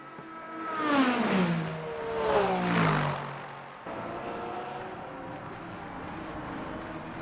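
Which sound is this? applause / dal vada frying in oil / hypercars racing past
hypercars racing past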